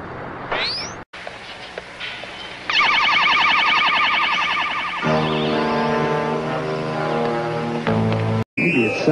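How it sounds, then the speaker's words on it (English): A loud, steady electronic alarm tone with warbling and pulsing layers, standing in for a superhero's spider sense going off like a ten-bell alarm, holds for several seconds before cutting out abruptly. "my spider sense just went off like a 10-bell alarm"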